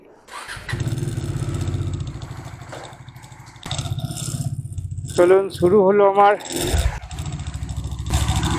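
Bajaj Dominar 400 motorcycle engine running steadily on a highway ride from Kolkata toward Kanpur, a continuous loud drone with someone talking over it throughout.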